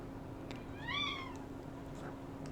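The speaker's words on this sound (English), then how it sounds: "I have never had a cat that was this vocal before" A cat gives a single drawn-out meow, rising and falling, faint against a quiet background hum.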